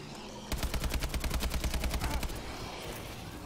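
Rapid automatic gunfire in the Call of Duty Exo Zombies video game: a loud burst of evenly spaced shots lasting about two seconds, fading into a lingering rumble.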